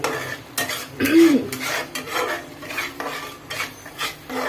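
Raw onion paste masala being sautéed for a fish curry, a spatula scraping and stirring in a pan in repeated rhythmic strokes over a low sizzle, close and fairly loud.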